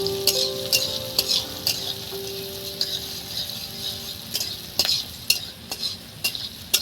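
Chopped onions sizzle in mustard oil for a cabbage dish, with a steady crackling fry broken by sharp scrapes and clicks of a spatula stirring against the pan, close and fairly loud.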